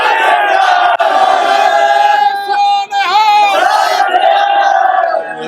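A large protest crowd at Jantar Mantar at night chants loudly in unison, voices merging into a sustained roaring cry that carries almost without pause, with one short dip midway.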